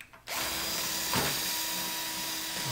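A power drill boring steadily into a Schlage Grade 1 deadbolt with a small bit. The whine is loud and continuous, with a brief shift in pitch partway through and no talking.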